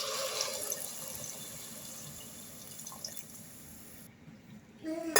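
Buttermilk poured into a pan of potatoes in a fasting-style dish makes a soft, faint liquid splash that trails into quiet, with a brief clatter at the end.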